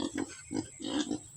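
A pig on a farm grunts in a quick series of short, low snorting oinks, close by with no talking.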